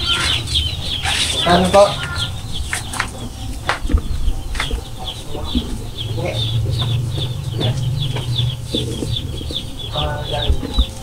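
Chicks and chickens cluck and peep at a poultry stall, with repeated high chirps running throughout amid market bustle, wing flaps and people talking nearby.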